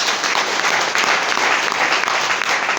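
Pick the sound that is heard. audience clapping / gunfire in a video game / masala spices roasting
audience clapping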